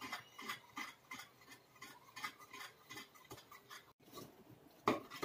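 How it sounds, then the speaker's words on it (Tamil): Wheat halwa cooking with ghee in a pan is stirred continuously, a spoon scraping and clinking against the metal in a steady rhythmic back-and-forth, close and soft, with one sharper clack near the end. "இந்த மாதிரி கைவிடாமல் கிளறிக்கிட்டே இருக்கணும்."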